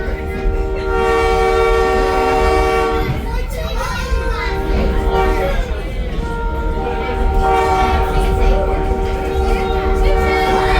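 A rumbling old-fashioned railroad ride on the Black River and Western Railroad in Hunterdon County, with a steady rolling drone and a sustained horn blast, while voices and children chatter throughout.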